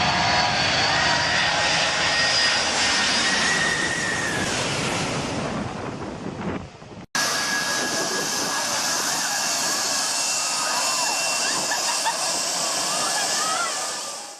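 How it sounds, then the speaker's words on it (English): A jet airliner taking off at Maho Beach, St. Martin, blasts a loud, close, roaring wall of engine noise that holds steady throughout, with a brief dip midway and faint voices mixed in. "Everyone was excited to see the plane take off"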